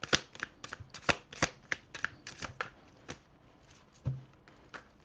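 Tarot cards are shuffled close up in a quick run of crisp flicks and slaps, busy at first, then slowing to a few scattered taps, with no one speaking.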